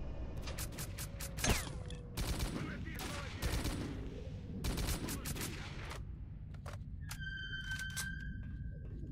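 Sniper and automatic gunfire in the video game S.T.A.L.K.E.R.: Call of Pripyat, with bursts of sharp shots in quick clusters separated by brief lulls, plus some electronic game tones near the end.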